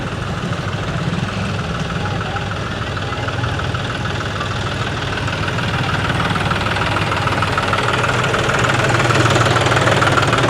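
A tractor engine runs steadily close by with a dense, rattling low throb that grows slightly louder toward the end, as it carries Ganesh idols away from the village.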